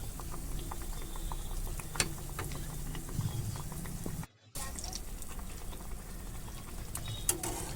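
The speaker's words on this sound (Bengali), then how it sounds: "লাগিয়ে নিয়ে তেলে ভেজে নিচ্ছি" Potato chops frying in hot oil, a steady bubbling sizzle that runs throughout at close range, broken by one brief drop-out midway, with no talk.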